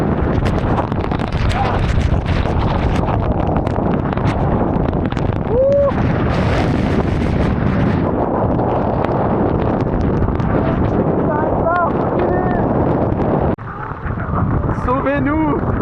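Strong storm wind at sea off St Barthélemy roars and buffets continuously across the microphone, loud and unbroken, with faint voices occasionally cutting through the gusts.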